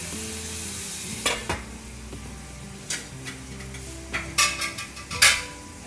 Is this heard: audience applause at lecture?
no